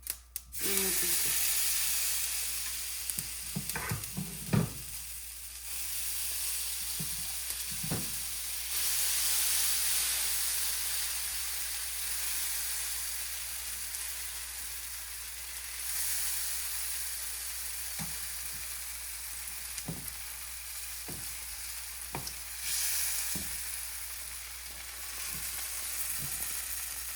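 Handvo batter poured into hot oil already crackling with mustard seeds, a steady broad sizzle across the whole stretch, with occasional clinks and scrapes of a spoon or pan standing out above the frying.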